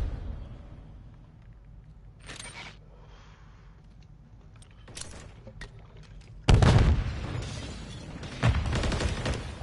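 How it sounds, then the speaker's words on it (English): A bomb charge detonates in Call of Duty, a sudden loud blast that jumps in and stays heavy, with a second burst near the end, following quieter game ambience and scattered clicks. "Detonate the target."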